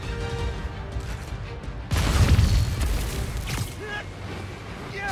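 In Spider-Man: Miles Morales, a thrown rocket bursts with a loud, abrupt boom that rolls into a rumbling crash and debris clatter, fading over a couple of seconds amid game background sound.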